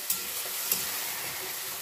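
Yogurt mixed with ground chili and melon seeds frying in a pan, a steady soft hiss and sizzle with a couple of faint stirring taps, heard alone and close.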